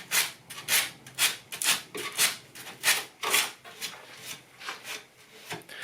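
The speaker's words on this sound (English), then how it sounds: "I've just got myself a very small bit of 80 grit sandpaper, which is going to be plenty just to clean this small area up" Small piece of 80 grit sandpaper rubbed back and forth over a broken wooden table leg joint, a steady run of about a dozen close, rasping strokes with even rhythm, gradually softening toward the end.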